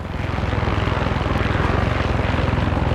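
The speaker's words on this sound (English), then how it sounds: "now we need to bring back a helicopter to airlift the supplies" A helicopter in the Far Cry 6 video game flies with a loud, steady rotor chop and engine roar that runs throughout without a break, and no one talks.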